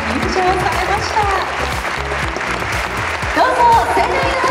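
Steady audience applause greeting guests at a Japanese Olympian and Paralympian talk show, continuous dense clapping over background music, with some voices mixed in.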